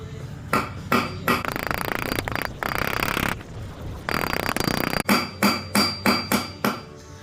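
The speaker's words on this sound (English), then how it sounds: "all I'm going to do is grab this hammer. I'm replacing them anyway, so I'm just going to lightly tap." A hammer lightly tapping a stuck part on a Duramax diesel engine, a quick series of crisp metallic taps, first over a steady rasping, scraping noise and then alone in a rapid even rhythm near the end.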